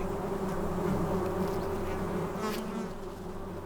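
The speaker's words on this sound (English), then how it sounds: "Its demonic humming can be heard 100 yards away." A dense swarm of bees hums steadily among flowering prickly pear cactus in the Sonoran Desert, a loud, continuous droning buzz that holds without a break.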